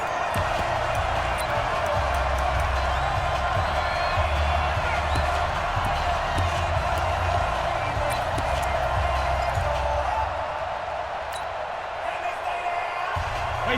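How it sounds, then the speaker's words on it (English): A football stadium crowd in a Patriots versus Cowboys game roars steadily ahead of a big third down, a broad, continuous wash of noise with sharp claps and shouts mixed in. "the crowd getting into it as we come up on a big 3rd down"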